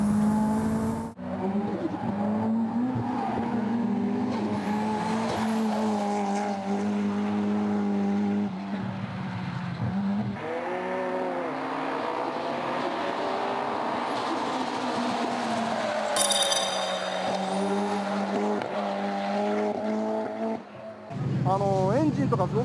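Blitz Skyline drift car at the D1 Grand Prix, an engine roaring and revving through rising and falling pitches, with a commentator talking over much of it.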